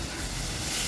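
Butter sizzling in a frying pan at home, a dense, steady close hiss that stays even for about a second and swells slightly at the end, with no talking.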